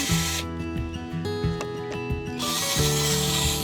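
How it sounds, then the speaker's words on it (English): Power drill pre-drilling holes in wood during outdoor construction, with a loud whirring motor whine that rises and falls in pitch, stops briefly in the middle, then runs again with a harsher bite into the wood. "Always pre-drill your holes"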